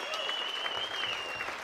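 A crowd at a softball final rises in a standing ovation for a 90-year-old honoree, with steady, dense applause filling the space and a thin sustained whistle running over it throughout.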